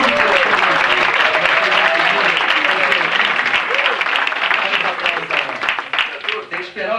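Audience applause at a radio show premiere, dense clapping that fills the room, with voices over it, then tapering and thinning toward the end.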